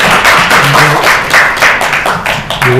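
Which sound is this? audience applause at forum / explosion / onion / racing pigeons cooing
audience applause at forum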